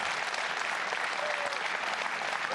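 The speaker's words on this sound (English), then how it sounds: "I think an applause is in order." Steady applause from a crowd at an SK Gaming esports event, dense and even across the whole moment with no talk over it.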